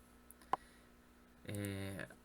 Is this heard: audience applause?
no